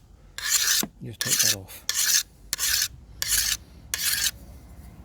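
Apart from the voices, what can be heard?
file sharpening a scythe blade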